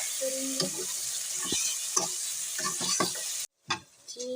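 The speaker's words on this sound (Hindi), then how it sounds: "अब यहाँ पे ऐड करेंगे 2 रेड टमाटर और मिक्स करेंगे" Okra and tomatoes stirred in a frying pan, with an even sizzle under repeated scraping and clanking of a spoon against the pan and a short break near the end.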